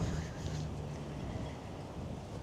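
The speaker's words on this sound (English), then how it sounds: "And that wind is just blowing." Gusty wind rumbles against the microphone outdoors on a cold day along a bicycle trail, a low, steady buffeting roar with no clear voices.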